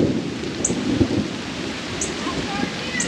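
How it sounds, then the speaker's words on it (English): Thunder rumbling through steady rainfall on a humid day in Georgia beside a freshly mowed field; the rain hisses continuously and the low thunder rolls beneath it, with no voices. "With the thunder."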